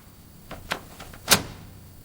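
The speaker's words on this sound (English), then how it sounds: "He locks the door." A door is locked in a home after a break-in: a handful of small, close mechanical clicks and taps, ending in one louder, crisp snap of the lock. No voices.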